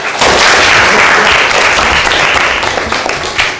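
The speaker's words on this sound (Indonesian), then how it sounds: "Baik, tepuk tangan." Loud, dense applause from an audience of schoolchildren in a classroom, a continuous wash of many hands clapping close and steady throughout.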